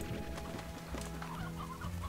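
Chickens cluck in the video game Slime Rancher, a cluster of short, choppy clucks and squawks repeating over a busy ranch background, fairly close and unaccompanied by speech.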